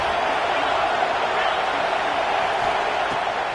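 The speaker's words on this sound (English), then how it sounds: "Listen to this crowd just shaking the girders of this place, trying to help their defense." A stadium crowd in College Football 26 roars in a dense, loud, continuous wash of noise that holds steady throughout, with no clear speech on top.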